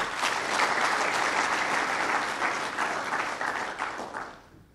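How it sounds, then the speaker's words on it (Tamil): An audience at a business talk by a company chairman claps in a thick, even burst that holds steady, then thins and fades away toward the end, with no talk over it. "எனக்கு இந்த கைத்தட்டல் பிடிக்காது"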